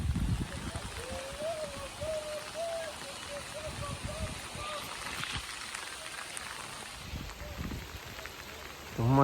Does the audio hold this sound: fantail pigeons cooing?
no